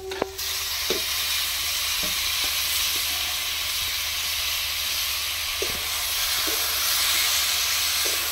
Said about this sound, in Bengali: এর সঙ্গে আমি আলুগুলো দিয়ে দিচ্ছি। আর ঝিঙাটাও দিয়ে দিচ্ছি।